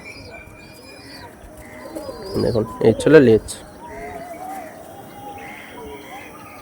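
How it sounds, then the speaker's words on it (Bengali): Pigeons coo at close range in a short burst of throaty, pulsing calls while someone talks in between and other birds chirp faintly around them. "দেখুন এসব পায়রা বন্ধুরা"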